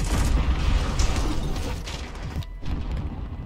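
Grenade blasts and clattering debris fill a busy Call of Duty: Modern Warfare 2019 Domination match, loud crunching bursts over constant game noise, with a sharp booming hit near the end.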